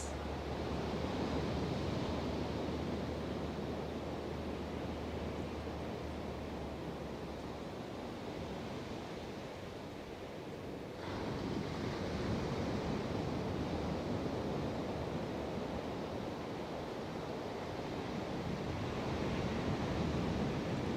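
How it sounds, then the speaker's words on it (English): A steady wash of ocean surf rolls on continuously, a broad roaring hiss that swells and eases gently without pause. "you can just relax and surrender and listen to the waves."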